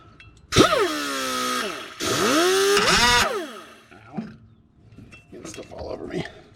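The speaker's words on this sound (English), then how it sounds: "Alright, here goes nothing, cutting a brand new truck." A power cutting tool slices into the bumper of a brand-new 3500 Silverado or Sierra L5P Duramax truck, giving two loud, harsh whining bursts of a few seconds each, then quieter clinks and rattles.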